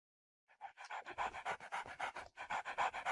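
A dog pants close by in quick, steady rhythmic breaths, loud and alone after a short silence, with a brief pause before the panting resumes.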